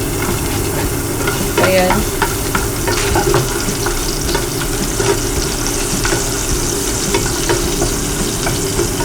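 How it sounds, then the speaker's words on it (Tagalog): Garlic sautéing in cooking oil for bulalo, a loud, steady sizzle heard close up with stirring scrapes and a brief spoken word. "First, igisa muna natin yung garlic."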